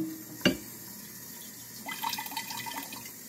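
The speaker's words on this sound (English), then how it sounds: "And we're going to rinse this out." Water runs and splashes while a pickle jar is rinsed out, a sharp knock early, then a faint stream and gurgle, quiet and close.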